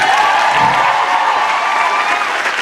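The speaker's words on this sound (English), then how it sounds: "give them a big cheer" Concert audience at the Billingham Forum cheering for the band, a loud, dense burst of applause, whoops and shouting filling the hall, close and sustained throughout.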